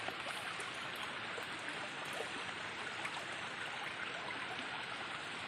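Heavy monsoon rainwater rushes along a stream in the Konkan countryside, a continuous wide hiss of flowing water at moderate level with no voices or other sounds.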